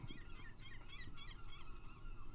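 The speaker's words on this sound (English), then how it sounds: "Seagulls!" Seagulls calling steadily over a continuous low background rumble, their cries overlapping and moderately loud throughout.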